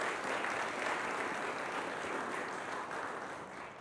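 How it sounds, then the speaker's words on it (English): Sustained applause fills a room at a county board of commissioners meeting, a steady wash of many hands clapping at once, holding even throughout and easing off slightly toward the end. "I think they deserve a round of applause,"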